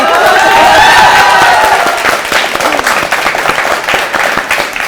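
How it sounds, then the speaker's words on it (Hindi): Loud, sustained applause from an audience, dense clapping with a few cheers mixed in, gradually thinning toward the end. "इतने टाइम का तालियों गड़गड़ाहट जो सुनी"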